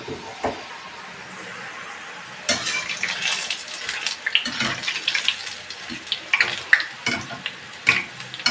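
Boondi droplets of gram flour batter frying in hot oil for Tirupati laddu, a soft sizzle joined by sharp, irregular bursts of crackling and ladle scrapes close by, with no talking.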